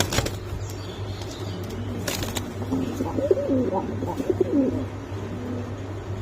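Domestic pigeons coo in a low, rolling burst close by in a loft where chicks are hatching, with faint rustling and a steady low hum underneath.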